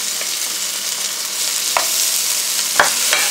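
Half of a long green chili pepper sizzles in a frying pan with a bright, steady hiss close by, broken by a few faint stirring taps.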